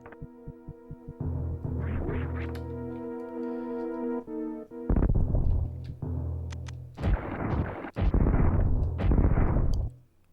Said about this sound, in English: Wasting super missiles left and right